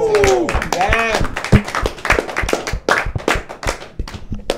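A small group claps hands at a nightclub anniversary celebration, sharp uneven claps mixed with chatter and a voice speaking over them.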